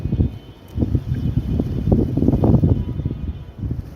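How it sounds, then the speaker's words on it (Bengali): Strong wind buffets outdoors, a loud, low, continuous roar that surges and eases across the span without any talking. "প্রচণ্ড বাতাস হচ্ছে"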